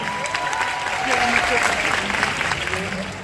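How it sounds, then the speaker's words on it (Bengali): Audience applause at a Bengali stage event, a dense patter of hand claps that swells in the middle, with voices murmuring underneath. "আরো একবার জোরে হাততালি হয়ে যাক।"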